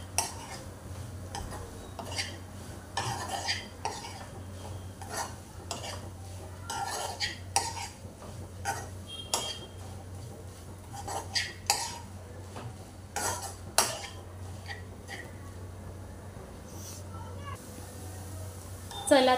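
A spoon stirs fresh coconut filling with dry fruit and cardamom powder in a pan, scraping and clinking in irregular strokes, close and fairly quiet, with a voice talking in between.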